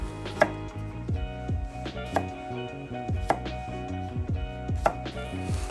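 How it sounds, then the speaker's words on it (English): A knife slices a small Persian cucumber on a cutting board in a series of crisp, evenly spaced chops, each one landing with a sharp click against the board. "I've got a little Persian cucumber here. I'm just gonna slice it up and get it in my brine."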